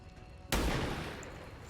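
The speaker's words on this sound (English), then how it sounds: "I think I might take my precision shot here." A single sharp precision-shot gunshot in the video game XCOM 2, cracking suddenly after a quiet moment and trailing off into a long, fading reverberant tail.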